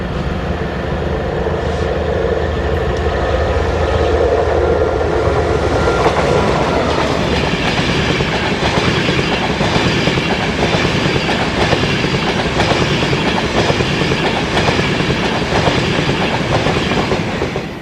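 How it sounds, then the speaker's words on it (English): Class 67 diesel locomotive 67008 passes on the Lincoln line near Stowe hauling a Mark IV coach set with a class 91 electric in tow; loud engine roar builds, then continuous wheel clatter and rumble from passing coaches. "67008 passes Stowe on the Lincoln line with a Mark IV set and a 91 in tow"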